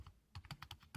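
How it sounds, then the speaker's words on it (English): Quick keystrokes on a computer keyboard as a website name is typed during PHP setup on Windows 7: about six crisp, close clicks in an uneven burst within one second, with no talk. "Let's type in the name of our website here."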